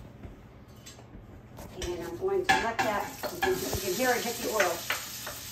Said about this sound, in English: you can hear it hit the oil